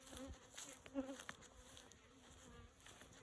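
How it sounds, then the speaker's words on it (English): Honey bees buzz at an open hive during feeding with no-cook sugar bricks, a faint steady drone with a few brief louder passes close by. "I don't know if you can hear them, but they are sure buzzing"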